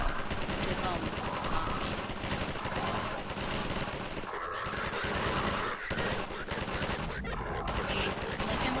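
NPC gunfire in Garry's Mod, rapid automatic bursts rattling almost nonstop and loud, broken by two brief gaps.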